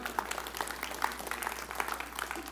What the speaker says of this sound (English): That's a good moment to clap